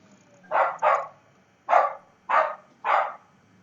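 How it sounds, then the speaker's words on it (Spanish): Dogs bark in the background during an online panel discussion on penal law: five sharp barks at close-to-moderate distance, two quick ones, a pause, then three more evenly spaced, with no talk over them. "solo que se oyen por ahí ladridos de perritos"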